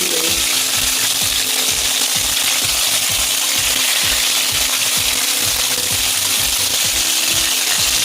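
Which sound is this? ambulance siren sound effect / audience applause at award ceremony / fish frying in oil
fish frying in oil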